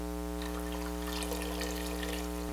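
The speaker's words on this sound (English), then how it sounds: "And then we're going to add 3 cups of water." Water running and pouring into a pot for black bean soup, a steady wash of splashing liquid under a constant low electrical hum from the kitchen.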